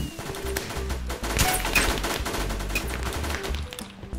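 Rapid, dense bursts of automatic gunfire from a VNS gun on a Minecraft server rattle continuously, loud and close.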